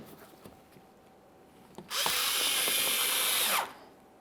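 A power tool drives a screw into a bumper panel on a 2014-2018 Mazda 3 during headlight replacement: faint handling clicks, then a loud, steady whirring burst of under two seconds that cuts off abruptly.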